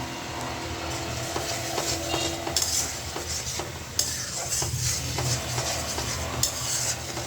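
A spice paste with turmeric stir-fries in a pan, with steady scraping and rubbing strokes from a spoon over an ongoing sizzle, close and fairly loud, with no speech.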